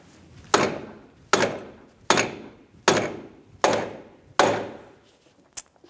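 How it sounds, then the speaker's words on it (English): A hammer drives a front strut onto the wheel-bearing knuckle of a 2012-2020 Ford Focus: six heavy, evenly spaced metallic blows, each with a short ringing decay, then one light tap at the end. "I heard an audible difference in the hammering."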